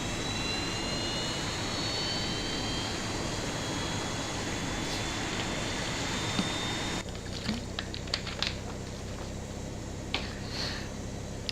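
Airbus A320 jet engine spooling up during start in the X-Plane 11 flight simulator, a steady loud roar and whine with faint clicks and ticks near the end, no talk.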